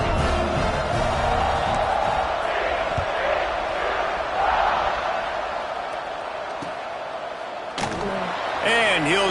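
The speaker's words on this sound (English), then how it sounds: "this crowd is buzzing after that last score" Dense, steady roar of a football stadium crowd buzzing after a score, with swells of cheering rising and falling under a broadcaster's voice.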